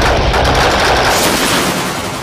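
Loud, close machine gun fire in a combat firefight: a continuous, dense burst of rapid shots lasting a couple of seconds, with no talking.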